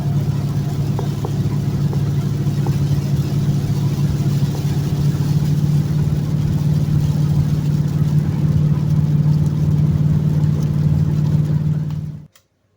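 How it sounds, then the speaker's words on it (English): A 1971 Ford Torino drives through rainy Atlanta traffic, its engine a steady low drone with road and rain noise holding level throughout before cutting off abruptly at the end. "I'm driving my 71 Torino, and we got Atlanta traffic"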